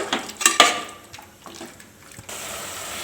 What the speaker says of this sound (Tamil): இப்படி நல்லா மிக்ஸ் பண்ணிக்கோங்க